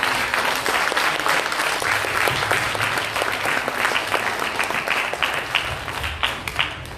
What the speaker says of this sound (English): I would request everyone to give a round of applause to him as well.